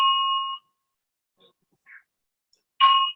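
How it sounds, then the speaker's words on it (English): A bell rings twice during a lecture, two clear, bright dings a few seconds apart, each fading quickly, with faint small sounds in the quiet gap between them. "that was a really evil bell."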